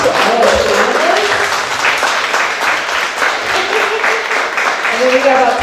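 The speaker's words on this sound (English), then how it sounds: "let's give a round of applause to all our panelists." An audience at a Hmong culture and healing panel discussion applauds the panelists, sustained, dense applause lasting throughout with a speaker's voice heard over it at the start and end.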